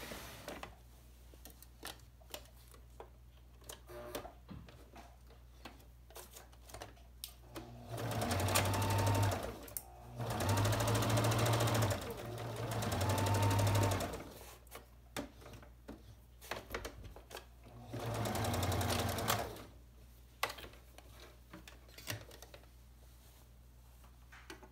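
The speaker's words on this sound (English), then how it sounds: "Now I'm going to sew from the folded point and cover the elastic 1/2 inch." Sewing machine stitching the folded edge and elastic of a scrub cap, running in three or four steady bursts of several seconds each, close and clear, with quiet handling sounds between runs.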